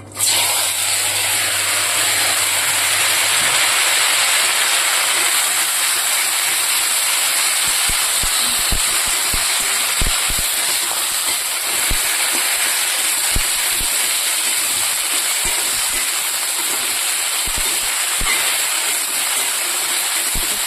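Spices tempering in hot oil for a Bengali shukto sizzle with a steady, loud broadband hiss that carries unbroken throughout, dotted with small crackles and pops.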